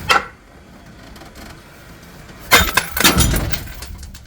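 Glass breaks and clatters as a shelf unit is dismantled during a living room makeover, a sudden loud crash followed by a second burst of tinkling, scattering shards, with a brief knock at the start.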